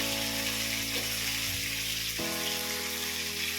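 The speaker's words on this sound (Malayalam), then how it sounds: "നമ്മൾ കുറച്ച് നേരം ഇങ്ങനെ ഇളക്കി വാട്ടിക്കൊണ്ടിരിക്കുക." Sliced onion sautéing in a pan while being stirred gives a soft, steady sizzle under a constant background hum that shifts abruptly partway through, close and unbroken, with no talk.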